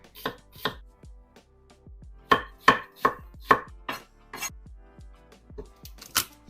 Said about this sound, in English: you do want to cut this pretty finely